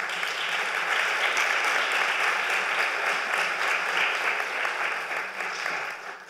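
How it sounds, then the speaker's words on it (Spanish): An audience at a health conference applauds a neurologist, sustained clapping that fills the room for several seconds and then begins to taper off at the end. "También pido un aplauso para el doctor Teodoro del Ser."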